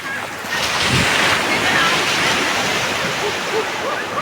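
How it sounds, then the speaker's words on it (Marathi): Sea waves breaking at Varsova beach in Mumbai, a continuous close rush of surf and wash with a slightly stronger surge near the start, lasting a few seconds with no clear talk. "पाण्याच्या लहरा भारी येत आहेत."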